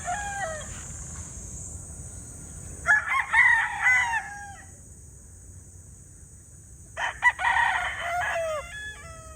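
Tethered gamecock stags crow twice, two loud close cock-a-doodle-doo calls a few seconds apart, over a constant high insect drone and faint ambient hum.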